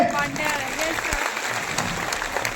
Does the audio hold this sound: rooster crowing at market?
no